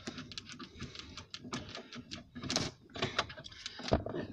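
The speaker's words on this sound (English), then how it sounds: "just take these screws out" Screws are being removed from a Pontiac Grand Prix dashboard panel near the storage cubby, with close ratcheting clicks and plastic rattles in a brisk, uneven run.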